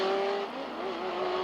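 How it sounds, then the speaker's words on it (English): Race cars on the Trois-Rivières street circuit roar past with a sustained, high engine drone that dips slightly in pitch as one passes, loud and steady with no voices. "The green flag is dropped and the race is on."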